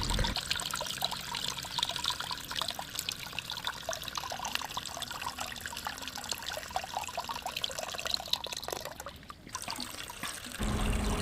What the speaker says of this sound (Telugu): వాటర్ కూడా చాలా పోర్స్తో పోయకూడదు సైడ్ నుంచి నెమ్మదిగా పోయాలి